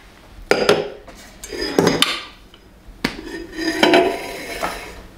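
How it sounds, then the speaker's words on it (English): A mixing bowl lifted off an Ankarsrum stand mixer gives a few separate clanks and knocks of metal and hard parts, loud and close, spread over several seconds with no talk. "I'm going to release the roller so it can, the arm so it can go clear behind the bowl. And lift the bowl up."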